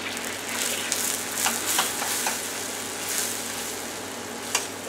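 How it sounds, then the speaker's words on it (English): Flour and butter stirred together in a hot pan for a roux, giving a steady close sizzle broken by scattered soft scraping strokes, with no talking. "you just want to mix the flour and the butter together until it gets really thick"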